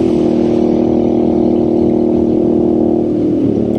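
A Royal Enfield Scrambler 650 twin engine pulls hard and close on a scenic back road, a strong, steady throaty drone that holds for a few seconds before easing off slightly at the end.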